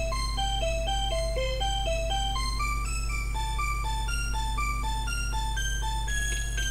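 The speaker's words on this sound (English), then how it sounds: "The music's definitely better in this version than it is in the Mega Drive one." Bright chiptune music from the Aladdin game on the SNES plays continuously: a stepping, bouncy melody of short notes over a steady bass line, loud and even throughout.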